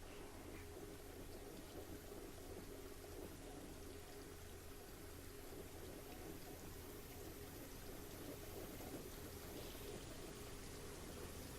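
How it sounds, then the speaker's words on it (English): Loud, steady rushing of sewer water in the video game Temple of Elemental Evil, a continuous dense wash of flowing water with no breaks. "The water's really goddamn loud here."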